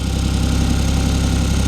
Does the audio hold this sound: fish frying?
no